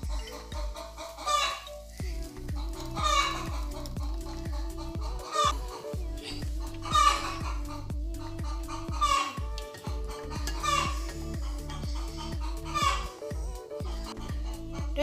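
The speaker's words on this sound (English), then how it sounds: "Don't worry about the hen, it wants to hatch. That's why they make such noise." Hens clucking in a rural African village, with a broody hen wanting to hatch, repeated busy clucks over a steady rhythmic low thumping and background activity throughout.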